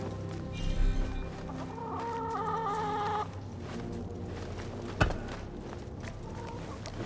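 Chickens cluck in a video game, Assassin's Creed Mirage, with a few close, agitated squawks over steady game ambience and one sharp thud partway through.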